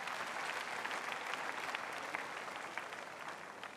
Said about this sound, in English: Let us clap for Jesus Christ.